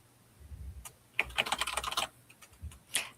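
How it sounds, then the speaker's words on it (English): Typing on a computer keyboard, a close run of quick clicky keystrokes in irregular bursts with short pauses, heard alone against a quiet low hum. "I can totally hear you typing"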